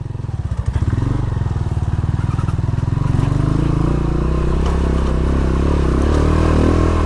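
A motorcycle engine chugs and revs up close, a loud throbbing drone that builds as the bike pulls away onto a slippery trail in Pampanga, with rattling and scraping underneath.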